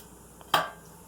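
A corn meal makki ki roti flipped onto a hot tawa griddle gives one sharp, close clatter-slap, with a faint tap just before it and a short fading tail.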